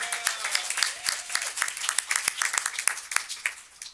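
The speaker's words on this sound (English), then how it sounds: "Let's give a round of applause for" A room at a school board meeting applauds students, with sparse, distinct individual claps. Some sharp nearby hits stand out over a thinner spread of hands, and the clapping fades toward the end.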